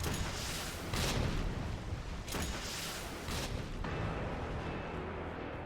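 Rocket launcher fire in Resident Evil 3 Remake: several broad, booming blasts with noisy tails, fairly faint and spaced a second or so apart, with no talk.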